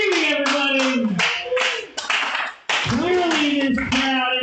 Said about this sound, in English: Give another hand to singing, everybody!